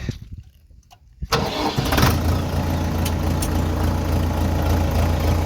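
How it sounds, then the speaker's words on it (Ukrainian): An ENEY 404 mini tractor engine cranks after a short quiet moment, catches and settles into a loud, steady idle close by. "Заводиться трактор"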